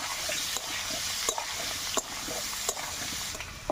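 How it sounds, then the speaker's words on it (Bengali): Small boiled potatoes fry in oil with turmeric and salt, giving a steady, close sizzle that fills the clip, broken by a few sharp clinks and scrapes of stirring. "হলুদ দিয়ে আমি আলুগুলো ভাজা ভাজা করে নেব।"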